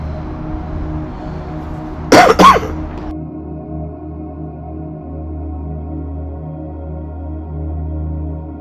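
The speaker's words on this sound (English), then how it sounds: "People are going to hear my coughs in these videos in the future" A short burst of two or three close, sharp coughs breaks through a quiet background hum, followed by a steady low drone.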